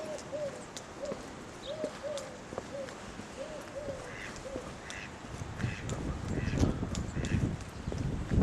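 Ducks quack repeatedly in short, rhythmic bursts beside the Atherstone top lock on a canal in wintry weather, moderately close, over steady outdoor background noise that grows louder toward the end.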